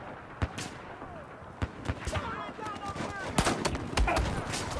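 Scattered gunfire in Battlefield 4, several sharp shots and bursts popping out irregularly over a busy battlefield bed, with voices talking over the action.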